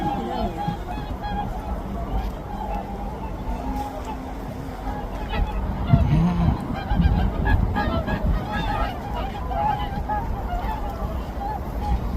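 Geese honk repeatedly along a streamside walking trail in Gyeonggi, Korea, a busy overlapping chorus of calls over constant outdoor background noise, with faint voices mixed in.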